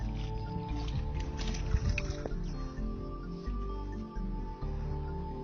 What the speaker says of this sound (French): Et ensuite, pour boucler cette étape, nous allons arroser.